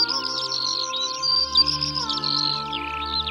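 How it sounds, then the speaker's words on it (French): A Eurasian bullfinch gives a run of short, bright chirping calls, repeated close together over a steady, sustained tonal background. "Le bouvreuil pivoine est un passereau de la taille d'un moineau"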